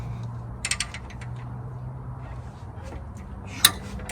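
A ratchet wrench loosens a bolt on a Powerstroke diesel engine, giving a few quick faint clicking bursts and one sharp metallic tick over a low steady hum.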